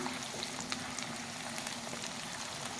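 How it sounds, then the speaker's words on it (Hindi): Chicken nuggets fry in oil over a medium flame with a steady, soft bubbling sizzle and scattered small pops. "चिकन नगेट्स हम मीडियम फ्लेम पर फ्राई कर रहे हैं।"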